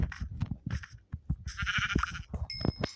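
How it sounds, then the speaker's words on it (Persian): Sheep bleats sound close by in a few short, wavering calls, with muffled handling noises and a brief metallic ring near the end. "من دارم اینجا این گوسفند رو جل بدم."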